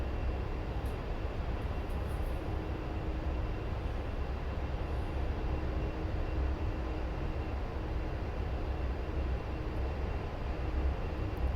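An A-10C jet in the flight simulator DCS, heard as a steady, loud, broadband engine roar that holds constant throughout with no break.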